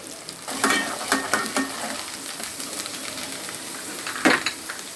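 Urad dal, moong dal, chopped garlic, cumin and mustard seeds sizzle in hot oil in a pan for poha, a steady crackling fry with sharper popping bursts and light stirring scrapes throughout.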